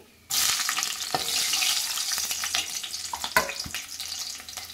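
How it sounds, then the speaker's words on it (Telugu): Mint and onions frying in a pan for chicken dum biryani, a steady loud broadband sizzle starting abruptly and continuing throughout, with occasional stirring scrapes and clinks. "కొంచెం పుదీనా, ఉల్లిపాయలు కూడా వేసుకుని మెత్తగా మగ్గిపోయేలాగా వేయించేసుకోవాలి"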